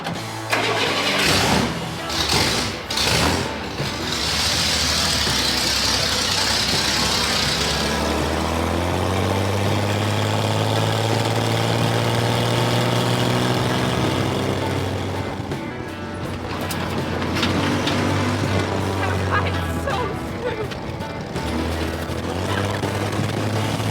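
The engine of an off-road 6x6 truck cranks over after a few knocks and settles into a deep, loud, close idle, its rumble holding steady, then rising and falling slightly as it runs on.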